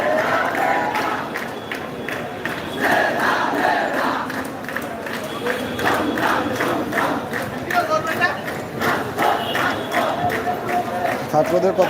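Protesting students fill a blocked street carrying banners and placards against job quotas, their loud massed voices chanting slogans and shouting continuously, a dense, close crowd roar with no letup.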